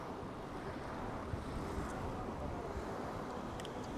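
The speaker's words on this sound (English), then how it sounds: "And it's super windy." Strong wind buffeting a microphone while riding through a Burundi city, a constant loud rumbling roar with faint high clicks near the end and no speech.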